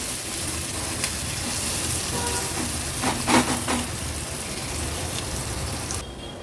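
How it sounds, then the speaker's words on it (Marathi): Finely chopped onion frying in oil on a low flame, giving a steady, close, even sizzle that runs throughout, with a brief louder crackle partway through. "लो फ्लेमवरच कांदा शिजवून घेणार आहोत"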